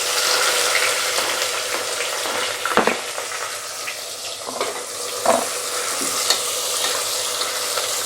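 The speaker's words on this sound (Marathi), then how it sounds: "त्यातच मी आता कांदा टाकून घेते आहे।" Chopped onion sizzles in hot oil with whole spices for veg pulao, a steady loud frying hiss broken by a few clinks and scrapes of stirring in the pan.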